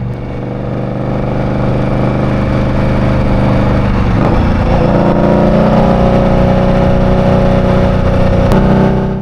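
A motorcycle cruises at highway speed in New York City, its engine droning loud and steady under heavy wind rush, with a brief shift in pitch midway as it changes gear.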